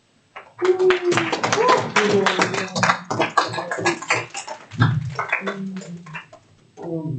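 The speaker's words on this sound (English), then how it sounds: "clap it up for the sponsors" Audience clapping for sponsors at a security news talk, scattered sharp claps mixed in with people talking over them. The sound starts after a brief silence and stays busy throughout.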